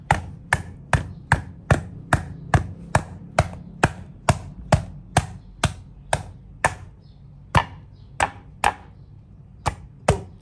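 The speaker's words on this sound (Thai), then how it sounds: "แล้วก็บุกพอแตกค่ะ" A Japanese cucumber is smashed until it cracks, heard as a long run of sharp, evenly spaced whacks, about two per second, close and crisp against a quiet kitchen.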